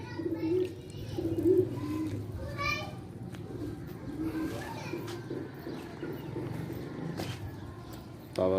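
Pigeons coo softly after being released from their coop, a low murmuring hum running under children's voices and an adult talking nearby, with a few brief chirps.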